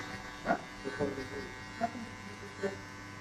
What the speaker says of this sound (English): I will close the clipper to the end and I will hit it again